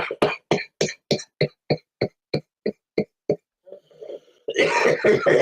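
A heavy smoker's harsh cough repeated in a rapid series of about a dozen sharp, evenly spaced bursts, then a couple of softer rasping breaths before a loud, rough fit of coughing and throat noise at the end.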